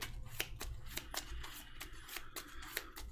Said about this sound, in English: Let me shuffle the encounter deck.